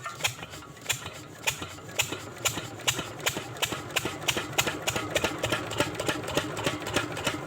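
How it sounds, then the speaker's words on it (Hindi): A Lister diesel engine runs just after starting, thumping out a fast, steady, even beat of sharp mechanical knocks that stays loud and close throughout. "आप देख सकते हो इंजन हमने स्टार्ट कर दिया है"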